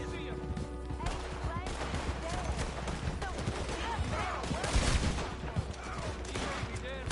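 Gunfire in the Red Dead Online video game, a dense continuous barrage of shots mixed with game sounds and voices throughout, loud and close.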